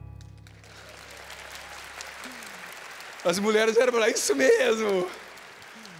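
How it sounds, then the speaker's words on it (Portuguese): Applause from women in an audience at a couples' camp gathering, a short burst of clapping that rises under a voice and continues briefly after he speaks. "eu tava brincando, mas elas aplaudiram mesmo"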